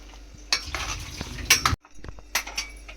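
Spoon stirring mixed vegetable bhaji in a pan on the stove, scraping and clinking against the metal with a faint sizzle underneath, a few sharp knocks, then a short pause before quieter stirring resumes.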